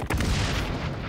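A grenade detonates in the shooter XDefiant, a single loud, close boom with a rumbling tail that fills the whole moment.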